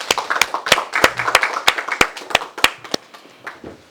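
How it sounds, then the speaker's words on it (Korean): Applause at the 2021 Gyeonggi education administration forum: a run of crisp, evenly spaced claps from a small audience, steady and moderately loud for the whole stretch, with no voices over it. "우리 전임 강재구 대표님이 그런 의미에서 다시 한번 큰 박수 부탁드리겠습니다"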